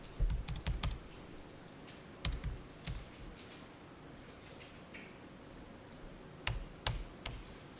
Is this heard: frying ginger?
no